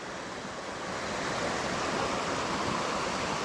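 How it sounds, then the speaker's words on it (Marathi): A Konkan river near Dapoli swollen after heavy monsoon rain, a continuous broad rushing roar of flowing water, steady and unbroken with no voices. "तर मित्रांनो ही एक नदी."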